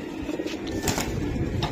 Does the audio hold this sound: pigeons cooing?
yes